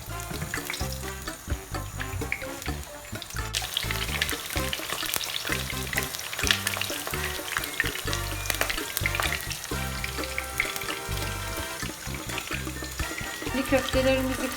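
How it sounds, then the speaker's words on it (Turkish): Meatballs frying in hot oil for islim kebab, a dense continuous sizzle with crackling spatter and occasional stirring, close and loud throughout. "Şimdi köftelerimizi kızartıyoruz."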